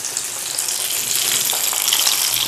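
Food fries in hot oil in a small karahi, a dense, even, hissing sizzle that holds steady at close range with no one speaking.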